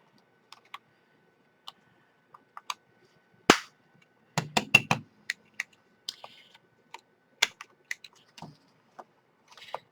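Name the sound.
corner rounder punching paper corners of a notebook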